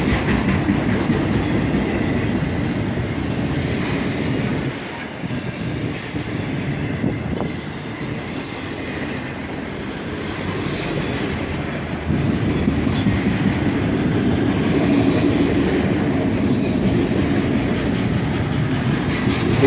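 A CSX autorack freight train rolls past on the Toledo subdivision at a steady pace, its rail cars producing a continuous loud rumble with faint wheel clatter and occasional squeals, no voices.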